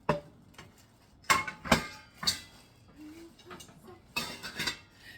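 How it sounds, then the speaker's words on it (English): Small cookware pieces are set into a metal pots and pans organizer rack, giving several sharp clanks and clinks in uneven bursts, moderately close with quiet gaps between. "I'm going to put my little pot sets in here."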